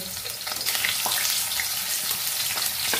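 Fish fries on low heat in a little oil, giving a continuous, fairly loud crackling hiss with faint scattered pops and a few soft spatula taps, no voices.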